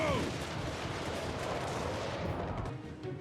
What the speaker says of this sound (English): Try to keep shooting them so that you can kill them before they disintegrate